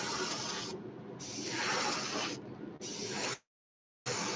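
An airbrush sprays Candy Blood Red lacquer paint over a fishing lure in loud, close bursts of hiss, with two brief dips, then a full stop and a fresh burst at the end.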